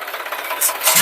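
A tractor engine idles with a steady low rumble, a dung-loading attachment fitted, rising slightly in intensity toward the end.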